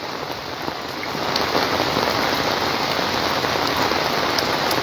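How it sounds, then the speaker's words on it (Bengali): Heavy morning rain pours steadily on surfaces during a thunderstorm, a dense continuous hiss that swells louder after the first second and stays constant throughout. "প্রচুর বৃষ্টি পড়ছে"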